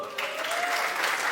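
Audience applause at a stand-up comedy show, a brief burst of dense, even clapping heard close and at full volume.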